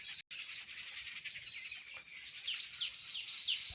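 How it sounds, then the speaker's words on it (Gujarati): Sparrows chirp in a village, a steady chorus of bright, quick tweets that grows busier and louder toward the end, with no voices. "અને ચકલોનો અવાજ, મીઠો કલરવ,"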